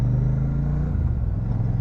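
Steady low engine drone from a Royal Enfield Shotgun 650 out on a test ride, close and continuous, with a brief shift in tone midway and no voices.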